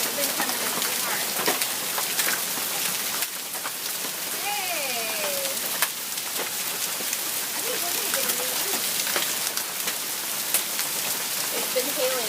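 Golf ball size hail falling in strong wind, a dense continuous hiss and patter of stones striking surfaces outdoors, loud and unbroken throughout, with people talking and calling out over it.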